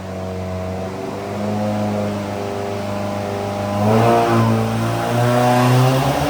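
A 2024 Subaru WRX with current mods and tune revs hard on a dyno, a steady loud engine drone climbing in pitch and intensity near the end, with no talk over it.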